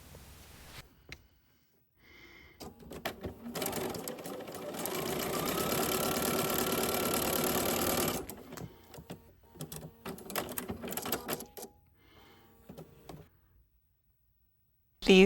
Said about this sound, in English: you're gonna start stitching along this edge from the fold to the raw edge